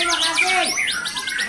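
A White-rumped shama sings at a bird contest: loud, close, rapid sweeping whistles and chirps that trill in quick succession over a faint crowd background.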